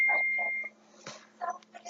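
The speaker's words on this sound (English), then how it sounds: "Sorry, my phone went off." A phone alarm sounds with a steady tone and short repeating beeps that stop after about half a second, followed by a few faint rustles and brief electronic chirps.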